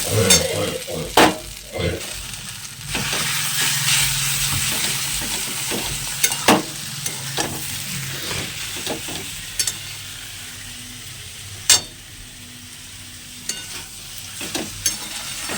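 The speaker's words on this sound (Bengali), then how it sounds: "এবার মাছের তেলটা দিয়ে দেবো।" Katla fish oil sizzles and fries in a pan over low gas for a potato chorchori, a continuous close hiss punctuated by sharp clanks and scrapes of stirring against the pan.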